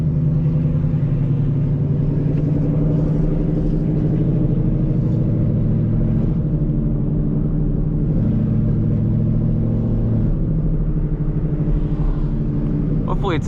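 A 900-horsepower Whipple-supercharged S650 Ford Mustang GT drones steadily while cruising, its low engine rumble loud and continuous, with subtle shifts in pitch as the car drives along a road.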